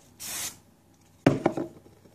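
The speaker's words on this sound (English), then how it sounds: "And then you can finish off with a little bit of spray." A hairspray can gives a short hiss over a styled side updo, faint and close. It is followed by a louder burst of rubbing and handling noise.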